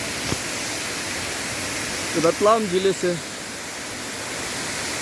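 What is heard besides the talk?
water streams falling at devjhar waterfall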